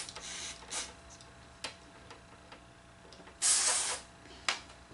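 Cleaner is sprayed onto the wire connector of the capstan motor on a Sony Betamax 711B, heard as several short, faint hissing puffs with one longer, louder burst near the end.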